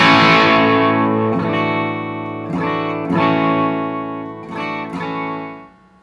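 An electric guitar on the bridge pickup at full volume, with no delay or reverb, plays loud, sustained chords through an amp, bright and slightly gritty, with several strums ringing out over six seconds and no talking.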